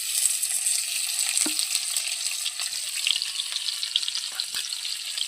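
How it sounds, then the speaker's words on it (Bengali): Chopped onions frying in oil with five-spice tempering, a close, lively sizzle of crackles and pops over a steady hiss, with a few light stirring knocks. "পেঁয়াজটা একটু ভাজা ভাজা হয়ে গেল।"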